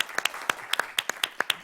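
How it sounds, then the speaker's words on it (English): At a school board of trustees meeting, a small audience gives a round of applause, with sparse, distinct claps from a handful of people ringing out clearly in an uneven rhythm in a room. "Let's give Mr. Salters and his team a round of applause."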